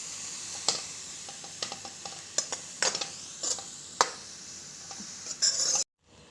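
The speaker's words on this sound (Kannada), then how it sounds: "ನೋಡಿ ಈ ಥರ ಫ್ರೈ ಆಗುತ್ತೆ." Food frying in coconut oil in a pan for tomato saru, with a steady sizzle and repeated sharp scrapes and clinks of a spoon stirring against the metal, close and clear, ending abruptly.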